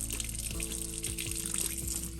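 Lukewarm water poured from a jug into a nasal rinse bottle, a steady close splashing trickle running the whole time with faint gurgles as the bottle fills, no talk over it.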